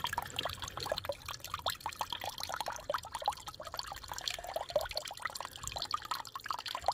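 Coolant water pouring out the bottom of a Beta 430RR motorcycle radiator after the cap is loosened, a steady close splashing trickle with dense dripping texture, running continuously without talk.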